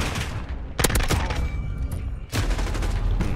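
Rapid bursts of gunfire from an M4A1 fitted with an underbarrel grenade launcher in the Modern Warfare video game, loud and close, with a short pause before a second volley, no talking.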